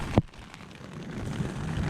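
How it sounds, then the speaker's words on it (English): Steady rain falls in a storm during a Suzuki V-Strom 1050XT motorcycle trip, pattering as a continuous hiss on a leaking tent, with a sharp knock at the start. "I'm gonna have to pack up in the rain."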